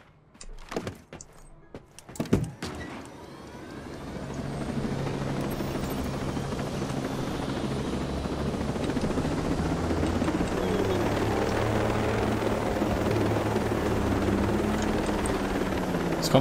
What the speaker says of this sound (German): Direkt mit dem Heli mit Minigun aufwarten hier.